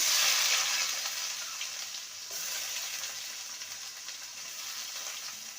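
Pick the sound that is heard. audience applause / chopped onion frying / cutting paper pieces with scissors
chopped onion frying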